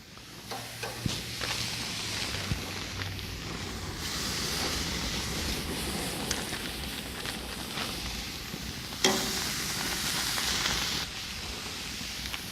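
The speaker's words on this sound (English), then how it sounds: "we just have to add it onto our preheated grill" Marinated lemon chicken breasts sizzling on a preheated grill, a continuous hissing sizzle with brief clinks as pieces are dropped on, no speech over it.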